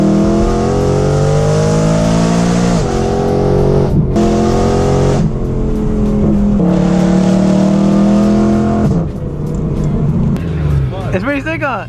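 A BMW M3 and an Audi R8 with V8 engines and loud exhausts, heard from inside a car on an empty, fairly straight road: a continuous close, roaring engine note rising through the gears as the car accelerates hard, with brief drops at each shift.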